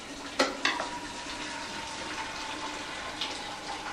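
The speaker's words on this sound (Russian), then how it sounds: "Значит, сейчас я сюда залью воду." Water pours into a pot for cooking a Belobok ham maker, a steady splashing stream with two sharp knocks near the start, with no talking.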